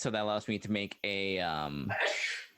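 A single sharp sneeze bursts out right after someone speaks, near and loud, ending a stretch of talk at a tabletop roleplaying session.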